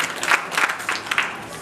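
Crowd applause at a fundraising gathering, a moderately loud burst of clapping from many hands with uneven bursts, plus murmuring voices mixed in.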